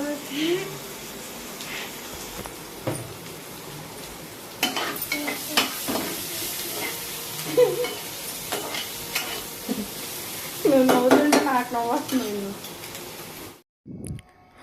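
Vegetables sizzle and fry in a pan while fried rice is being cooked at home, a steady close crackle with occasional stirring scrapes and clatter, heard under intermittent talking.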